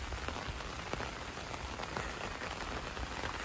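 Steady rain pours down on a village during the monsoon, a dense, even hiss of drops striking wet, muddy ground with scattered louder splats, continuous and fairly close with no voices.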